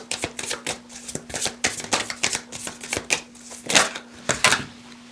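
Tarot cards being shuffled by hand, a steady run of crisp riffling flutters and soft slaps repeating close up for several seconds, no voices.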